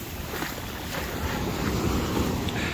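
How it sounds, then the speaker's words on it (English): Sea waves roll steadily onto a beach on the Holderness Coast during a fishing competition, a constant loud wash of surf mixed with gusty wind buffeting the microphone, with no talking. "Hopefully you can hear me over the sound of the waves."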